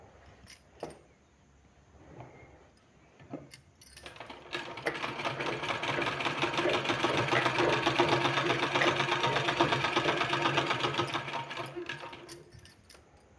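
A sewing machine stitches a sleeve, starting with a few short bursts and then running as a continuous loud rattling whir for most of the stretch before slowing at the end.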